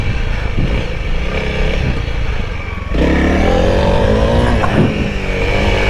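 A Honda CRF300L motorcycle rides during a cross-up wheelie, its engine droning close and loud, then surging louder with a sharp rev partway through as the bike pulls up.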